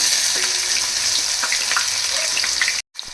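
Thinly sliced onions and green chillies frying in oil in a pan, a dense steady sizzle heard up close with light crackles, cut off abruptly near the end, no speech.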